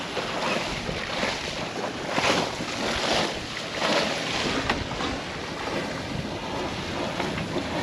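A sailboat under full sail in a light breeze, making about five and a half knots on the ocean, gives a continuous rushing wash of water and wind noise with gentle swells in loudness and no voices.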